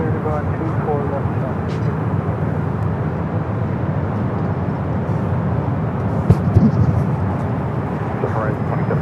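A jet airliner rolls for takeoff on runway 24 left at LAX, a steady broad engine roar that stays loud throughout, with people talking over it the whole time.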